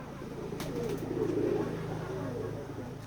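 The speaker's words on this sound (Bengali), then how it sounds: "এটা আমাদের ফার্ম হাউস, কবুতরের খামার।" Pigeons coo in a farm house pigeon farm where many birds and chicks are kept. Low, rolling coos overlap continuously at close range, with a faint brief flutter or chirp and some background murmur.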